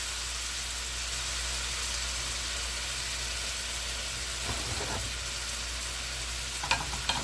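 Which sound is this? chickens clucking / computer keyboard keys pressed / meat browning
meat browning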